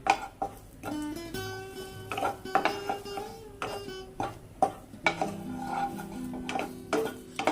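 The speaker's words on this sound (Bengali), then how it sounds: "এভাবে ধীরে ধীরে ভেজে নেব কন্টিনিউ নাড়িয়ে যেতে হবে না হলে পুড়ে যেতে পারে" Neem leaves fry in a pan while a utensil stirs them, giving repeated scraping and clinking strokes in an uneven rhythm over a light sizzle, close and clear.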